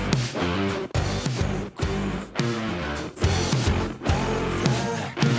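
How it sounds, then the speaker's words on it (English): A dense mix plays through the Oxford Inflator plugin, loud and full, with punchy beats and sustained tones that drop briefly in short gaps before returning, alone without talk. "this is the Oxford Inflator that I talked about before"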